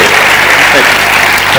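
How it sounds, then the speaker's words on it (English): Audience applause at a literature festival on an outdoor front lawn, a dense, loud, continuous clapping from a large crowd lasting the whole short moment. "please a big round of applause for Alexander McCall Smith"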